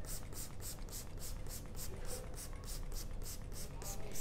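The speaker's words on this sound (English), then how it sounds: "I have some water in the spray bottle, not sanitizer, and I'm spraying quite generously" Short hissing sprays of water from a spray bottle onto a painted canvas, about a dozen quick regular bursts in a row, close and fairly soft.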